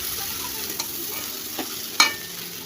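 Greens (dhekishak, fiddlehead fern) frying with masoor lentils, stirred in a pan: a soft steady sizzle with a few faint scrapes and one sharper clink of the utensil near the end.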